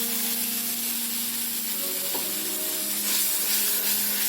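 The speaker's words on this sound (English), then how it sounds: "Now we'll add the tomato puree into this." Tomato puree hits a hot kadai of potato curry with a continuous loud sizzle and hiss of frying, close up, with faint stirring scrapes and no talking.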